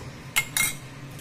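Utensils clink twice against a pan while mixing colorful pancit bihon with chicken, squid balls and mixed vegetables; two short, fairly close metallic taps over quiet background, no talk.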